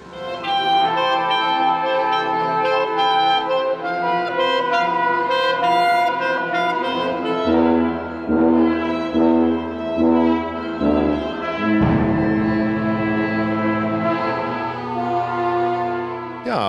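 A 144-musician symphony played inside Hamburg's historic St. Pauli Elbtunnel, with sustained layered orchestral chords and shifting harmonies ringing continuously at full volume, reverberant and without speech.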